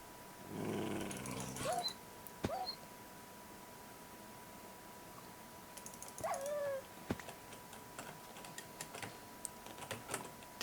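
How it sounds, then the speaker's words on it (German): Cave dog growls from a Minecraft Feed the Beast modpack, a few short snarls and yelps spread out over keyboard clicking and a quiet game hiss. "Schau, da ist so ein Höhlenhund."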